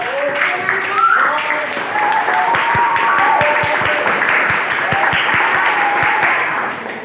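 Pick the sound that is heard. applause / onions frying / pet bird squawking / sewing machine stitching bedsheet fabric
applause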